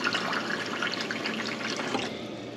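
Tap water runs steadily into a water bottle, a continuous close splashing trickle with no talking.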